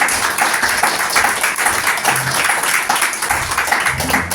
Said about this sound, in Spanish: vamos a darle un aplauso grandote a Dios por la vida de nosotros